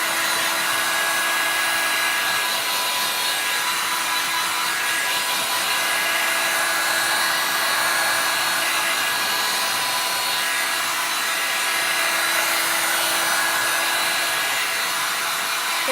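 Hair dryer blowing on bendable wood home decor, a loud, steady airy whoosh that holds unbroken throughout, close and with no talk.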